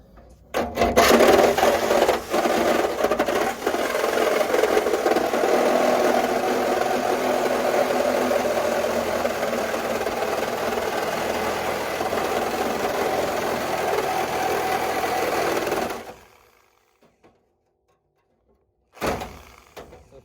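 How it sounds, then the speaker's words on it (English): A Sawzall reciprocating saw cuts through the rusted front clip of a 1968 Ford F-100, a loud, steady buzzing rasp of blade on sheet metal running for about fifteen seconds, then stopping abruptly into near silence before a brief restart. "I just really want to use this Sawzall today, and this is all roached, so here we go."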